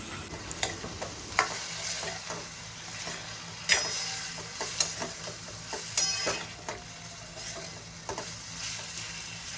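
A pan of Gujarati sev tomato curry is stirred while it sizzles, with scraping taps and clicks of the spoon landing irregularly over a steady frying hiss, close and fairly quiet, with no talking.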